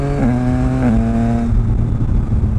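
A Yamaha MT09 motorcycle under open throttle makes two quick-shifter upshifts, the steady engine drone stepping down in pitch twice without a break before fading into rougher rumble.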